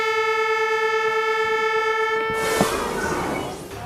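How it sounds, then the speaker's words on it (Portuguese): Horns blare a long, steady tone to mark the start of earthworks, a loud sustained blast that gives way after a couple of seconds to broad rumbling noise. "As autoridades soaram buzinas para marcar mais uma vez o início das"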